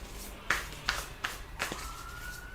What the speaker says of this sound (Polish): słychać pierwsze dźwięki za oknem, tutaj akurat karetka pogotowia